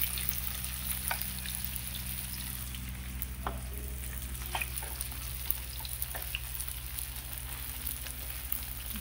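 Tofu stir-frying in a hot pan in a restaurant kitchen, a steady close sizzle with scattered pops and spatter running throughout, over a constant low hum and with no talking.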